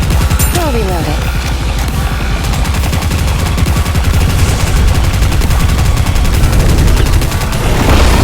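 Dense, continuous automatic gunfire from the mobile game Goddess of Victory: Nikke roars loudly throughout, with rapid rattling shots and booming impacts layered together.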